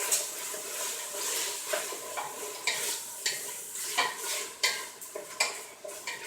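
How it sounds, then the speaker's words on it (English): A fistful of onion is stirred in a frying pan with bacon, giving a soft sizzle under repeated scraping strokes of a utensil against the pan, in an uneven rhythm. "I'm going to stir that up."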